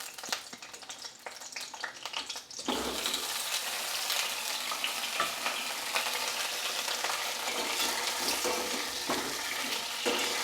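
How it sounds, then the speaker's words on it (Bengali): Cut potatoes drop into hot vegetable oil for a Bengali niramish aloo dum, setting off a sudden loud, continuous sizzle and crackle after a quieter stretch of kitchen sounds. "তেলটা গরম হলে আমি কেটে রাখা আলুগুলো আমি এর মধ্যে দিয়ে দিচ্ছি"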